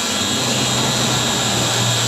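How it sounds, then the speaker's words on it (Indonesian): A Visuo 816 Battle Shark drone in flight, its propellers giving a loud, constant, close buzzing whine with no pauses. "Jadi hati-hati untuk penggunaan drone ini terhadap ketinggian di atas dari 30 meter."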